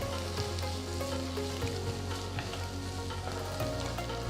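Chopped garlic and roughly cut tomatoes fry in a pan, giving a steady, close sizzle with faint stirring scrapes throughout and no voices.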